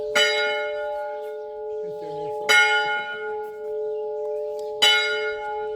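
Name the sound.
village church bells ringing on Evia island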